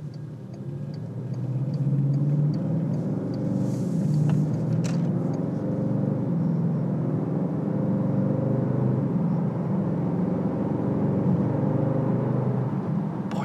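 Steady, low engine rumble heard from inside a moving 2015 Bentley Continental GT3-R sports car, continuous and droning, with no sharp revving peaks.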